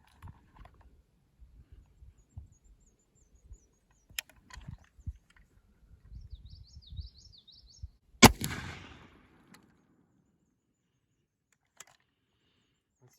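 A single sharp crack from a Gallager Civil War cavalry carbine firing black powder outdoors, followed by a brief ringing decay, after several seconds of quiet handling clicks and faint bird chirps.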